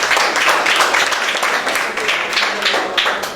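Students in a business and accounts classroom clap for a classmate: a dense, loud burst of many hands applauding together at close range, steady for a few seconds.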